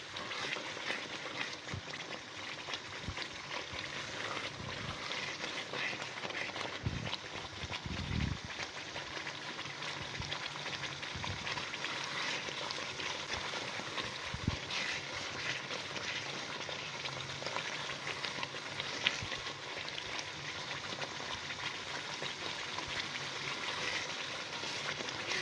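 Sooji (semolina) roasting in oil in a pan for halwa while being stirred, a faint continuous crackling sizzle with occasional soft scrapes, no voices.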